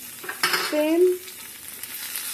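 Bhinjee and onion fry in a pan, with a brief scrape and stir followed by a short sizzling burst that quickly fades to a quiet background, no voices.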